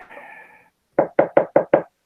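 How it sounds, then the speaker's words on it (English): Five sharp, evenly spaced knocks on a door ring out loud and close after a brief soft tone, then the sound stops. "You hear a knock at the door."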